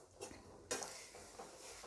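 A spoon scrapes and clinks steadily against a pan while peanut chikki sugar syrup is stirred, a faint, quiet kitchen sound with small metallic taps and soft sizzling.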